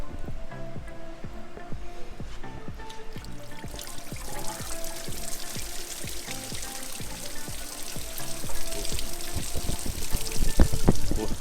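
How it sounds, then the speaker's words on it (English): Coolant drains from a Honda-built Acura TL Type-S engine after the water pump is pried off, a continuous trickling pour of liquid with dripping splashes that grows louder and fuller partway through. "so Miguel about to pry the water pump off and start draining some of the coolant."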